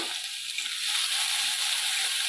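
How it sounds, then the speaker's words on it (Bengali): Crushed garlic sizzles in hot mustard oil with a constant bright hiss, close and steady, growing slightly louder as it goes on. "রসুনটা ভালো করে ভেজে নেব"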